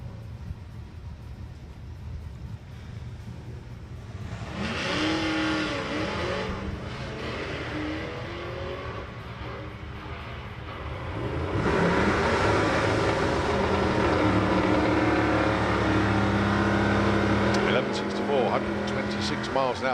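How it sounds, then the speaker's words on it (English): A drag racing car on nitrous at Santa Pod, purging the nitrous and then launching down the strip, its engine roar building loud and sustained, with a commentator talking over it. "now coming up to the line, purging the nitrous as well"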